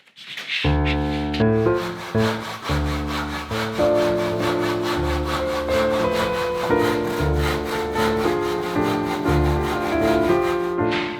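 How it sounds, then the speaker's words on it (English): Regular handsaw cutting wood for a drywall frame, close rhythmic back-and-forth strokes in a steady rasping pattern that start abruptly and continue throughout. "I prefer to use just a regular handsaw"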